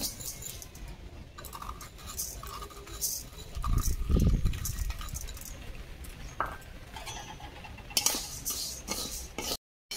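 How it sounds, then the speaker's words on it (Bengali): Moong dal dry-roasting in an empty wok while being stirred, giving a continuous gritty scraping and rattling of lentils and utensil against the metal, with one louder swirl of activity partway through and light clinks throughout. "এই যে মুগ ডাল খালি কড়াই এভাবে ভাজছি"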